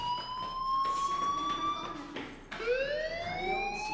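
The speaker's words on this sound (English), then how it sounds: "do you hear that fire alarm?" A wailing fire alarm siren sounds in the video game Life is Strange, its rising and falling electronic tones repeating loudly and steadily throughout, with a brief sweep restarting partway through.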